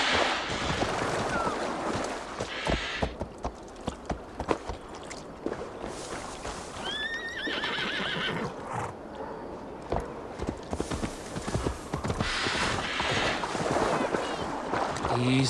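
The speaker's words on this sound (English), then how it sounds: "Your horse is a little unsettled, but safe." A horse in Assassin's Creed Valhalla clip-clops on its hooves with a steady walking rhythm and gives a brief whinny partway through, close up among game ambience.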